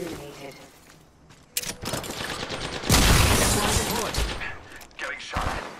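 Apex Legends gunfire crackles in bursts, starting sparse and then swelling into a loud, dense volley around the middle before trailing off into scattered shots, with voice lines heard intermittently.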